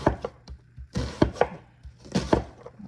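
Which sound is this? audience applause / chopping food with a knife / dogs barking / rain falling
chopping food with a knife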